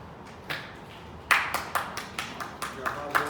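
A small group claps briefly in a classroom, a short burst of sparse, uneven hand claps that starts and then trails off.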